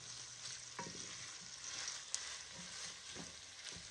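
Carrots and onions sautéing in a soup pot, a faint soft sizzle with a few light scrapes and taps from stirring, quiet and close with no voice present.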